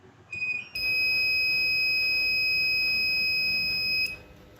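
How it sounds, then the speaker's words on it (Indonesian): Buzzer in a simple smart-parking system triggered by an ultrasonic sensor, giving a steady, shrill electronic tone that sounds for about three seconds after a brief initial chirp, set against low background hum. "maka buzzer akan menyala."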